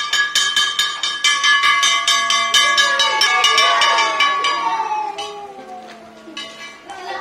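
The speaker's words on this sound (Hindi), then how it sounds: "जब स्कूल का टाइम पूरा हो गया तो घंटी लगी छुट्टी की" A school bell rings for dismissal in rapid repeated strikes with a bright metallic ring, loud and close, fading toward the end.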